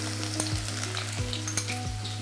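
Shallots and green chilies fry in a pan with a steady, loud sizzle, broken by three brief stirring scrapes spaced evenly through the short stretch, no voices present.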